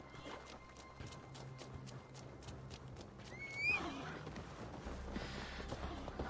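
A horse in the video game Assassin's Creed Valhalla gives one clear neigh midway, over steady clip-clop hooves and an ambient game soundscape.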